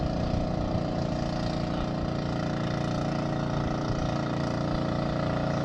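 A newly built homemade motorboat engine runs steadily, a loud close drone with a constant low throb and no pauses or voices.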